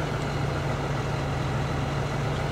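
A John Deere tractor engine in Farming Simulator 2013 idles continuously, a deep rumbling drone with no breaks, moderately quiet and alone.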